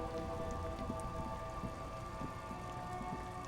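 Steady rainfall in the video game Disco Elysium makes a continuous soft patter and wash, constant and even from start to finish with no voices.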